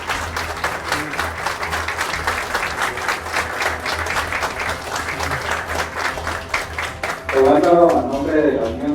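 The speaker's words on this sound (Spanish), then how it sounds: "Creo que merece un aplauso, ¿verdad?" Audience applause at a Costa Rican social security (CCSS) forum, steady dense clapping filling the room for several seconds, with a voice speaking over it near the end.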